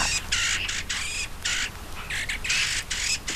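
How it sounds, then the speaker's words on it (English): A male Dartford warbler sings close by in scratchy, rapid bursts of chattering phrases, several separate outbursts with short pauses between them, loud and clear over faint background noise. "I'm talking about the Dartford warbler. Here's a male singing"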